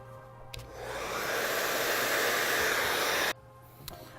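A hair dryer blows steadily on the roots during a salon blow-dry styling, switching on with a rising whoosh and holding a loud, even airflow for about three seconds before cutting off abruptly.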